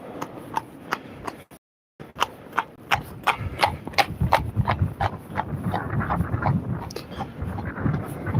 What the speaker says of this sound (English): A lovely sound of a horse trotting by.